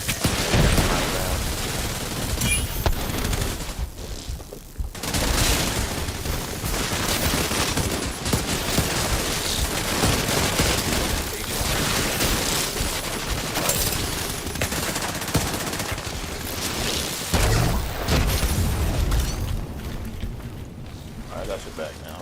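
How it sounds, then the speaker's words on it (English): Sustained gunfire and explosions in the video game The Division 2, with dense loud bursts and a player talking over the action. "Oh, stop shooting me."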